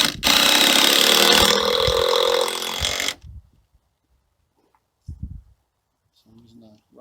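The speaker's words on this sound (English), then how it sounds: "I'm using a Ryobi screw gun, Phillips head screws" A Ryobi screw gun drives Phillips head screws into wood while building a ramp, a loud steady whir for about three seconds that then stops, followed by faint handling knocks and brief quiet sounds.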